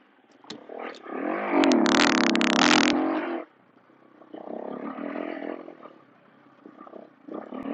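A 2026 KTM 350 EXC-F dirt bike engine revs hard and close for a few seconds, drops off sharply, then builds again in a rougher, lower rising rev.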